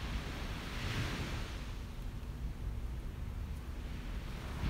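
Ocean waves wash steadily onto a beach at sunrise, a continuous broad rushing surf with a light breeze, moderately loud and unbroken throughout.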